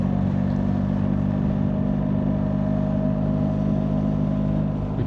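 A BMW R1300GS motorcycle is ridden along an Italian adventure trail, giving a continuous, loud engine drone mixed with rushing wind, steady throughout without any talk.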